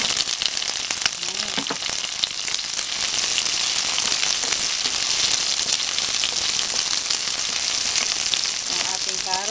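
Garlic and onion fry in a pan for sweet and sour pork, a loud, dense, continuous sizzle with crackling spatters and occasional stirring scrapes.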